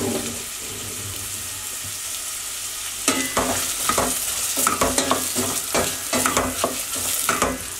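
Onions frying in oil in a pan for an okra stew, with a low steady sizzle that turns louder and crackly after a few seconds as irregular stirring scrapes and spits break in close by.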